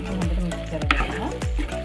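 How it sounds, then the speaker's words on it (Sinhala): Jackfruit is stirred into hot tempering in a pan for curry, giving a steady sizzle broken by a few sharp scrapes of the spoon against the pan. "හොඳට මික්ස් කරගන්නවා."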